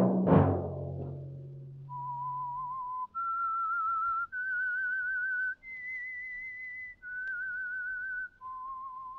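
A lone whistler performs the eerie theme tune of The Whistler, a Signal Oil radio mystery program, as a series of sustained, wavering notes stepping up and down in pitch, following a brief burst of orchestral music.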